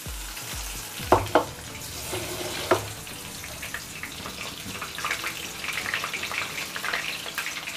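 Prawns for prawn 65 fry in oil in a pan over a medium flame, giving a steady close sizzle with a few sharp clatters early on and crackling that rises toward the end.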